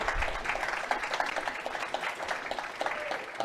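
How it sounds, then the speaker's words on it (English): Audience applause at a convention panel at GaymerX East 2017, a steady wash of many hands clapping throughout, fairly loud and close, with no speech over it. "Please clap loudly for Abby and Danielle and Alex Zandra."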